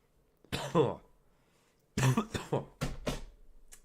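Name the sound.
dry cough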